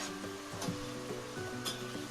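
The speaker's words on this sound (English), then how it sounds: "Can you hear that sizzling still?" Steady broadband sizzle of food frying in a pot, continuous and close, with faint stirring clinks now and then.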